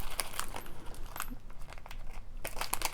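A crinkly plastic bag rustles and crackles as beads are dumped out, in irregular bursts of close, fairly quiet crinkling with brief pauses between.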